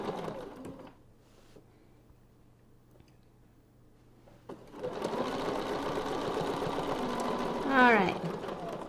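A longarm quilting machine stitching a heirloom feather pattern, a steady mechanical whir that starts about halfway through and runs continuously, close and fairly loud, ending in a brief rising whine.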